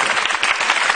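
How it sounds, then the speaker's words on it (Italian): Studio audience applause on an Italian TV show, a dense burst of clapping heard up close for about a second with no talking over it. "Fate un applauso a questo ragazzo."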